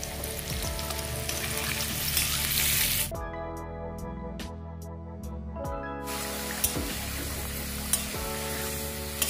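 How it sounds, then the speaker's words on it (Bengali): Potatoes frying in oil with a little turmeric, a steady close sizzle with stirring scrapes, broken midway by a few seconds of quieter clinking and spatula taps before the frying hiss returns, no talk. "একটু হলুদ দিয়ে আলুগুলো ভাজবো"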